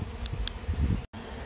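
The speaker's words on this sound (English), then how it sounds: "more and more bees are coming and landing over here" Honey bees swarm during the relocation of a hive from a tree, a close, steady insect buzz with a few brief sharp ticks and a momentary dropout.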